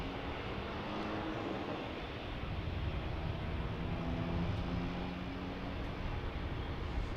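A Boeing 757-300 departs the airport as a broad, steady roar of jet engine noise, distant and sustained without a break for over seven seconds.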